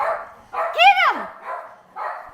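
A guard dog gives a single loud, close bark that rises and falls, set between stretches of people talking.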